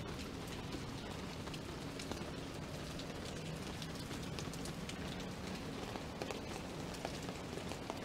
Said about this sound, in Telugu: ఐసోలేటెడ్ ఏరియాస్ హైదరాబాద్ చుట్టుపక్కల కూడా వర్షం పడుతున్నట్టుగా ఉంది